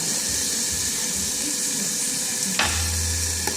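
Butter sizzling in a pan while black pudding (boudin noir) cooks, a loud, even close-up fry hiss broken by one sharp utensil knock, with a low hum entering toward the end.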